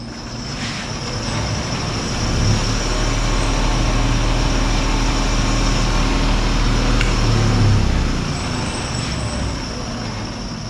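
A wood lathe spins at 1100 RPM with polyurethane steady rest wheels while turning a hollow form, giving a steady, fairly loud whirring rumble with a low hum that swells slightly mid-run.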